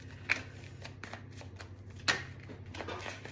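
Tarot cards are shuffled by hand for a reading, a steady soft riffling with a few sharper flicks and slaps standing out, close and fairly quiet, with no talk.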